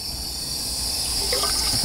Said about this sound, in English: the water coming out of the water maker before it goes to the water tank is coming here